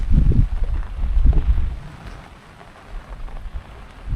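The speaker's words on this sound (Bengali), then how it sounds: "ব্রিজের উপরে আস্তে আস্তেই কিন্তু বৃষ্টি অনেকটাই কমে গেছে" Rain falling over a small village bridge, a soft steady patter mixed with low gusty wind buffeting close to the microphone, the bursts heavier at first and then easing.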